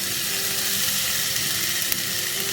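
Chopped tomato and capsicum fry in a pan with a constant, even sizzling hiss, close and fairly loud throughout, with no talking.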